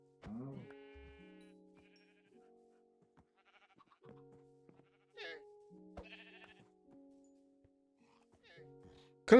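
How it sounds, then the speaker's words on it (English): Sheep in a blocky survival video game bleat in short, clean, repeated calls. Several separate bleats come at irregular intervals with quiet gaps between them, and no one speaks. "Could have sworn we had more pink sheep in here."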